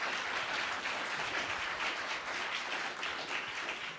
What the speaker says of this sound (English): I hope you're applauding for yourselves